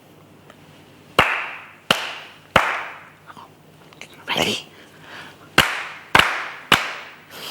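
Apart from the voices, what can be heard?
hand clapping rhythm in a clapping game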